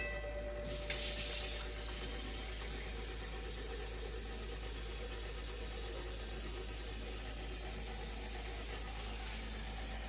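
Water runs steadily from a kitchen tap while jam is being made, a continuous gushing stream after a brief louder burst at the start, with no talk.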